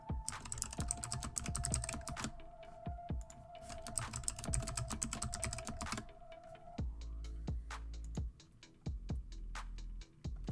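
Someone types a password on a computer keyboard, a close, rapid run of clicky keystrokes that keeps a steady pace with brief pauses between bursts.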